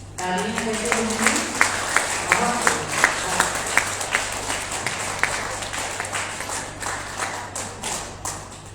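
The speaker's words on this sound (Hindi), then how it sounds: "तालियां कैसे होंगी?" Crowd at the closing day of a yoga festival applauds in a sustained round of clapping with distinct sharp claps standing out, steady throughout with a low hum underneath.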